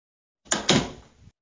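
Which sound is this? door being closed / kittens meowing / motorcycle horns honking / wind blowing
door being closed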